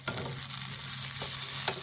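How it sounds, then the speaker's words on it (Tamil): Bitter gourd frying in a pan gives a steady close sizzle, broken by a few stirring scrapes, with no voices. "இப்போ இது ஃப்ரை ஆயிடுச்சு பாருங்கள் நல்லா."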